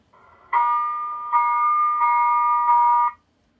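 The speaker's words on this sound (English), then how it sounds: "So the first alarm is the general alarm." A submarine general alarm sounds alone as a loud, steady electronic tone, pulsing in four repeated bursts of roughly equal length before cutting off.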